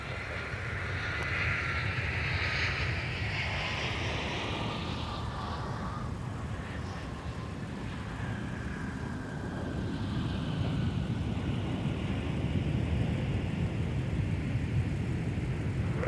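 A United airliner arriving from Chicago O'Hare lands on runway 12 right at Minneapolis–St. Paul airport, its engine roar sweeping and shifting in pitch as it passes, then settling into a steady rumble that swells again toward the end.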